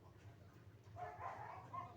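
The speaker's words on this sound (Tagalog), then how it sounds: "Itong aking baby na aso." A small dog gives a few soft yips and whimpering barks indoors, faint and close, over low background noise.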